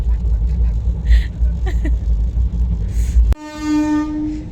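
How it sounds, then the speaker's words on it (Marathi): A train rumbles heavily past close by, with metallic clatter under it, then a loud horn blast sounds clearly near the end. "देखो देखो ट्रेन आ रही है"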